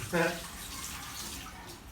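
Tap water runs steadily into a sink while hands are washed in a kitchen during pizza dough making, a soft, even hiss with a brief voice at the start.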